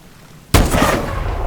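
Gunfire erupts in the Call of Duty: Advanced Warfare video game: after a quiet start, a sharp, loud shot cracks, and a dense, sustained roar of rapid firing follows at close range.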